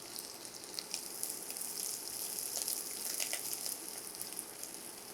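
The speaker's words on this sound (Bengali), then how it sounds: "পেঁয়াজটাকে একটুখানি কালারটা চেঞ্জ হওয়া পর্যন্ত একটু ভেজে নেব" Onions frying in mustard oil in a pan for Bengali loitta fish bhuna, a steady crackling sizzle that holds alone and evenly close throughout.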